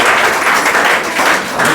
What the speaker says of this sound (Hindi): ताली बजाओ इसके लिए।